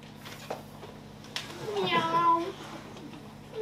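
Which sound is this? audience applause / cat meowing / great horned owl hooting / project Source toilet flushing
cat meowing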